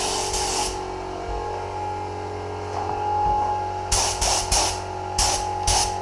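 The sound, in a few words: spray gun applying a medium wet coat of metallic car paint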